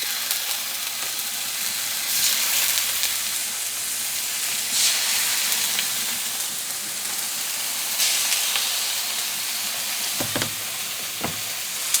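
Chicken frying in avocado oil on a stove gives a dense, loud, continuous sizzle and hiss, blended with the roar of an overhead fan, with a couple of brief knocks near the end and no voices.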